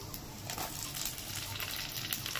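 Onions drop into hot oil in a pan for chili chicken and sizzle quietly and steadily, a soft close frying hiss with no voices.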